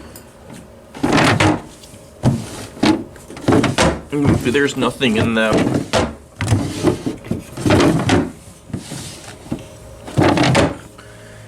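Drawers of a dirty chest of drawers in a motel bedroom slide open and shut with wooden bumps and scrapes, mixed in with close, steady speech throughout.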